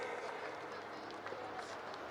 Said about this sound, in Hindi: ताली इतनी जोर से बजाइए कि हाथ लाल हो जाए